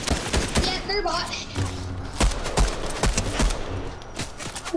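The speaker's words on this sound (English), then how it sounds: "there's someone shooting me from behind, too" Gunshots in the video game Fortnite, a dense run of sharp, punchy shots and thuds in quick succession, loud and close, while players talk over the firefight.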